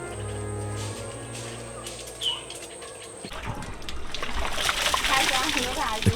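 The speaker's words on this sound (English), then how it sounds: "The cold water flows over him" Water splashes and sloshes close by during an outdoor bath with cold water in Bangladesh, growing busier toward the end, with a steady hum and faint bird calls underneath.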